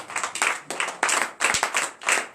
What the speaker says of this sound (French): je vous demande de vous relever sur vos pieds et de vivre acclamation à notre Seigneur Jésus